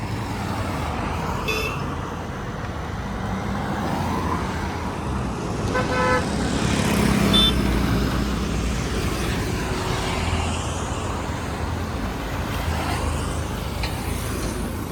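Busy road traffic rumbles steadily, with several car horns tooting at intervals, some in quick bursts, nearby and fairly loud.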